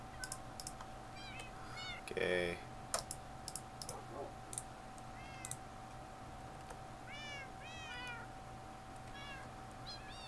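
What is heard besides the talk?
cat meowing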